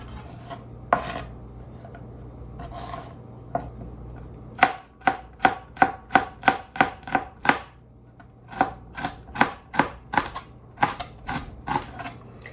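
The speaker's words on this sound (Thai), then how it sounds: "ก็เราจะมา ซอยพริกกัน" Bird's eye chilies sliced with a knife on a cutting board that dips in the middle: a quiet start, then a quick, steady run of close, crisp chops in bursts, with no talking.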